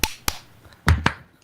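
A few sharp hand claps ring out, spaced unevenly, close and crisp against a quiet background.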